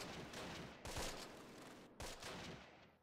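Suppressive gunfire in the World War II tactics game Close Combat: The Longest Day, faint and distant volleys of shots with two sharper bursts standing out over steady background battle noise.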